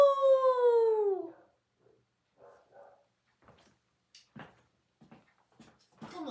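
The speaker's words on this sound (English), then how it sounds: "They're lovely, the dogs, when they howl." Dogs howl together in a loud, sustained chorus with a falling pitch, fading out after about a second and a half; afterwards come faint scattered thumps and small noises of household activity.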